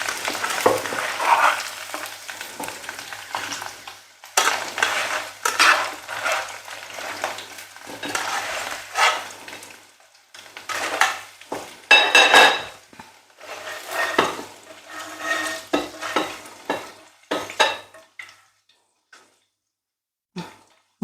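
Potatoes fry in a pan with bursts of crackling sizzle and scraping stirs that come and go, moderately loud and close, with brief quiet gaps between.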